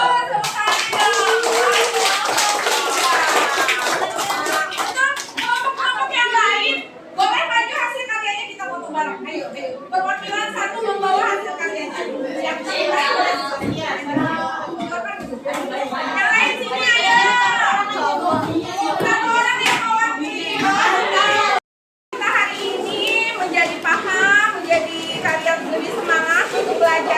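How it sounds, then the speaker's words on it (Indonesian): Children in an Indonesian classroom clap together after a group presentation, a dense sustained patter of small hands lasting many seconds, with chatter and young voices mixed in and a brief pause near the end. "Tepuk tangan dong."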